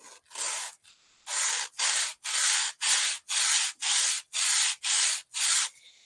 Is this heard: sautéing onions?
no